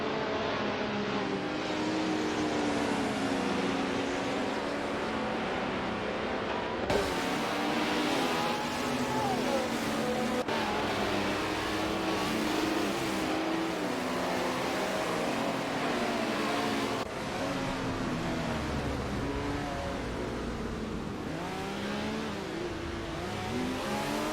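Race cars, a Porsche among them, drone steadily in a racing video game, engines whining and shifting pitch continuously with abrupt cuts between views.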